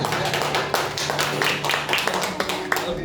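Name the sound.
audience clapping hands in church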